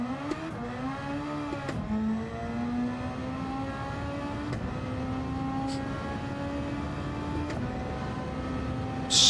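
Race car engine in a racing video game held at a steady high pitch through corners, with brief shifts and dips as it sweeps through the bends, loud and continuous with no talk.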